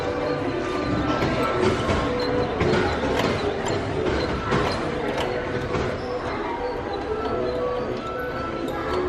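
Train ride at Disney World, the steady rumble and clatter of rail cars rolling along under a busy crowd murmur that continues throughout.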